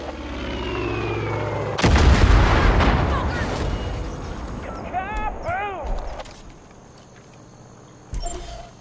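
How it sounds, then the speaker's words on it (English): A bomb strike in Far Cry 5 set in Montana: a loud blast hits about two seconds in, followed by rumbling debris and ringing tones that fade, with a shorter sharp burst near the end and game voices in between. "Bomb's on its way!"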